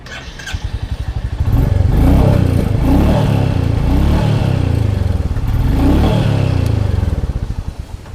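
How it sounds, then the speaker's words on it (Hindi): A Royal Enfield Bullet 350 motorcycle engine idles, then revs up loudly twice with a deep, throaty exhaust rumble, settling back between and after the revs. "कुछ इस तरह की एग्जॉस्ट साउंड जो है वो मिल जाती है।"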